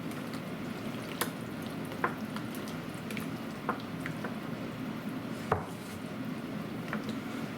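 Okra being stirred into a pot of gumbo: soft wet squishing and sizzling with a few sharp clinks of a spoon against the pot, close and moderately quiet, no talk.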